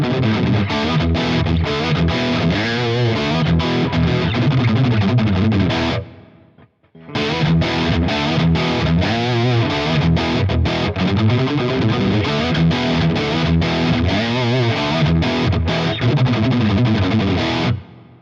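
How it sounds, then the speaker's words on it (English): An electric guitar plays big crunch tones through heavy distortion, loud chords and riffs ringing out close, briefly stopping for about a second before resuming. "Now let's listen to some big crunch tones."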